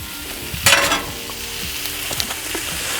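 Finely chopped ribeye sizzles steadily on a Halo Elite 4B griddle, with a loud scrape and clatter of a spatula as the meat is spread out, followed by a few lighter taps over the constant frying hiss.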